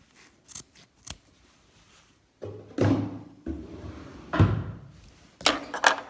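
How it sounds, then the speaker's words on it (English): Dull scissors trimming quilt fabric make a series of close snipping and crunching cuts: a few sharp quick snips, then heavier, longer chomping cuts, and a final cluster of snips. "Wow, I grabbed the dullest scissors that I seem to own."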